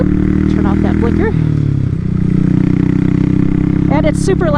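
A motorcycle's engine and exhaust drone loudly and steadily while it is ridden, the pipe mounted right underneath the rider, with a voice talking over the constant rumble.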